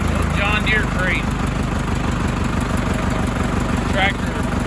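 Near a barn, a mower engine drones steadily and loudly throughout, with a low rumbling pulse and high whine, while faint chirps sit on top.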